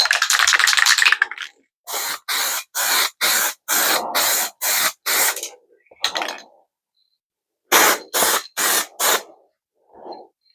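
Spray paint going onto a Range Rover L405 wing mirror cover for a first coat, a loud close hiss followed by a series of rapid, evenly spaced short bursts with brief silences between them.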